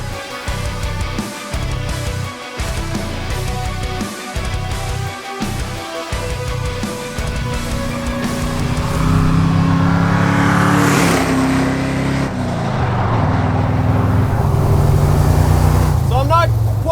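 The Fast and Furious 4 hero truck from the gas tanker heist scene drives on the road. A heavy, continuous engine drone and road rumble build steadily louder, and people talk over it.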